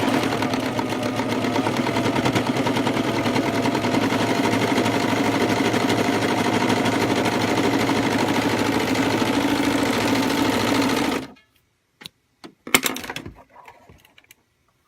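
A serger sewing machine runs steadily for about eleven seconds as it stitches fabric, a loud, even mechanical whir that then cuts off, leaving a few brief clicks and handling noises.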